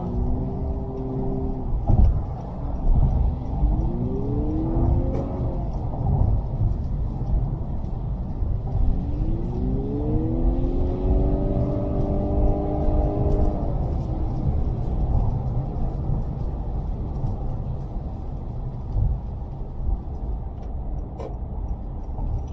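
A Honda Accord Hybrid sedan cruises at high speed with a constant low road rumble, broken by smooth rising whines as the powertrain picks up pace, heard from inside the car.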